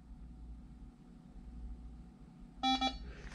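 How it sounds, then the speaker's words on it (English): After a quiet low hum, a short pair of electronic beeps from a Permobil wheelchair Bluetooth joystick sounds clearly near the end, sharp and tonal. "push it forward and hold until you hear a beep"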